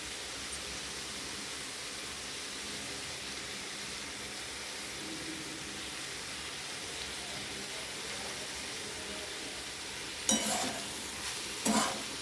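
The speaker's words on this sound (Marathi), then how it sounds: "मीठ टाकून झाल्यावर परत एकदा आपल्याला हलवून घ्यायची भाजी" Cluster bean (gavar) vegetable cooking in a pan after salt is added, with a steady soft hiss of frying and a couple of louder stirring scrapes near the end.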